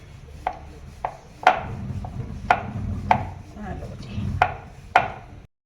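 A knife cutting thick jaggery mathri dough on a board, seven or eight crisp separate chops in an uneven rhythm, close and clear, with a low background hum.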